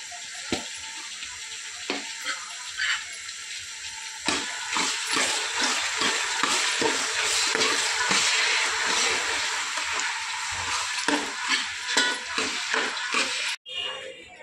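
Sprouted val beans for birda are tempered in hot oil, giving a loud, continuous sizzle and crackle with scraping stirring strokes. The sizzle starts abruptly and carries on for most of the stretch before cutting off near the end.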